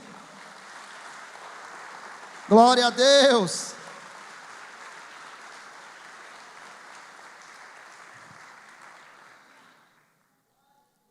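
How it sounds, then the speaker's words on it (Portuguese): A church congregation applauds in praise during a sermon, a steady wash of clapping that runs for about nine seconds and then stops, with a brief loud shout from a speaker near the start. "você pode aplaudir o Senhor por isso"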